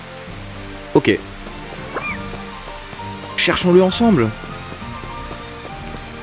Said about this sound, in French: Oh, il pleut, c'est magnifique.